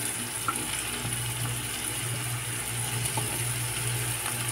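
Chayote pieces sautéing in a hot pan for a sili leaves and chayote pancit canton dish, giving a steady low sizzle with faint scraping stir noises throughout and no talking.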